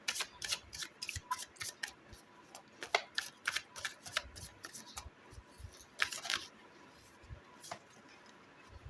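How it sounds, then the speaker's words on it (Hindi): Tarot cards being shuffled by hand: a quiet run of quick papery riffles and taps, close by and faint, fading out toward the end. "Just shuffle it one more time."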